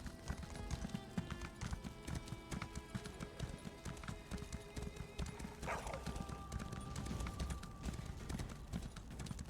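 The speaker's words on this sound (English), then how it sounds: "disrespectfully riding my horse through their sacred" Steady clip-clopping of horse hooves at a walking pace in the video game Elder Scrolls Online: Elsweyr, continuous and fairly close, layered over a busy, tonal background.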